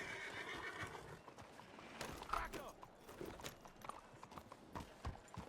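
A horse in a video game snorts and neighs amid hoof clip-clops, a short whinny burst near the middle with scattered hoof knocks and game ambience around it, at moderate loudness.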